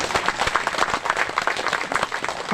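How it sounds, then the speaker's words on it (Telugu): An audience at a spiritual speech about the Ayodhya Ram temple claps loudly and steadily, a dense patter of many hands filling the whole moment with no talking. "ఒకసారి గట్టిగా చప్పట్లు కొడదాం."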